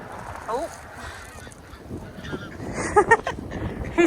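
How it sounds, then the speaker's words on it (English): A goose honks loudly outdoors on a windy, rainy day, several sharp honks near the end over steady wind noise, with faint voices in the background. "One of the geese, I think."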